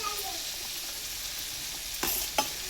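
Ridge gourd pieces fry in a pan, giving a steady soft sizzle throughout, with two brief sharper scrapes of stirring near the end.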